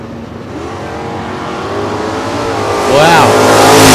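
Drag race cars launching in the D-Gas final at an ANRA season finals event: a loud, steady engine roar that swells and rises in pitch as the cars accelerate, heard close with a crowd-like wash behind it.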